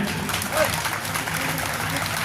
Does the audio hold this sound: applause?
yes